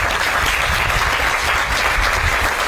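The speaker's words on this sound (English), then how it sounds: "how about a round of applause for makalapua?" An audience at an outdoor community groundbreaking ceremony for homes for Maui wildfire survivors claps in steady, dense applause throughout, loud and sustained with no pauses.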